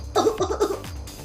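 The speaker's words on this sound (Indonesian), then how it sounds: "Bapak itu batuk lagi." A man coughs several times in quick, rough bursts, close and fairly loud.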